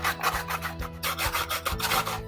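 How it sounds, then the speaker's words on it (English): Ginger being grated on a microplane grater for Japanese-style ginger pork, a steady run of close rasping strokes in a quick, regular back-and-forth rhythm with no talking. "I'm using a microplaner here, but you could also use this grater"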